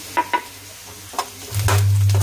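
Potatoes and long beans for a vegetable curry sizzling in a pan in a Nepal village kitchen, a few stirring clatters followed by a loud steady frying hiss, with no talking.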